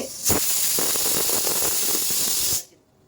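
A pressure cooker vents steam in one loud, steady hiss lasting a couple of seconds, then cuts off abruptly into quiet.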